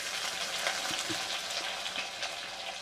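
Onions frying in hot oil with cumin for dried anchovy karuvadu thokku, a steady close hiss and crackle that runs unbroken with a few faint knocks.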